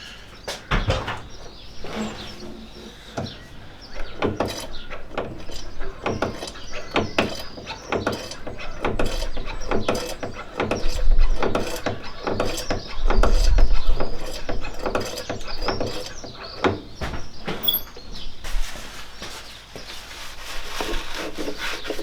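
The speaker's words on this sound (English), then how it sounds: "I'm just going to pump the brake a few times to try and get the fluid level down" The brake pedal on a Classic Mini is pumped repeatedly to drain fluid, giving a long run of rhythmic knocks and creaking mechanical clunks up close.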